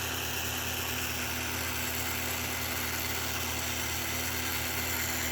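A model train puffer sound board idles at the station, giving a steady, continuous mechanical hum with a low rumble that holds evenly throughout, no talking over it.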